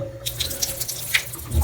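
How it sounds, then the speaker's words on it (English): Water drips from an old antique Kohler shower valve in a pink bathroom, with a few distinct close plinks over a steady low background hum and no talking. "This is the annoying part where it just drips"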